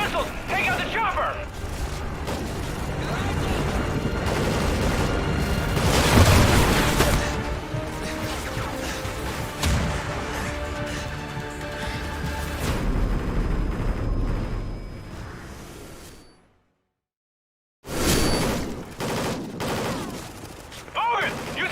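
Gunfire and explosions from guided missiles in an action video game, dense and loud almost throughout, with a brief silent gap near the end before the battle noise resumes; voices speak over the fighting.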